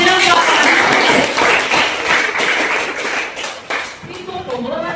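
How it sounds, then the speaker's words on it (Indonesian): An audience claps together in applause, loud and close, with a steady dense patter that lasts several seconds and dips briefly near the end. "tepuk tangan untuk Indonesia"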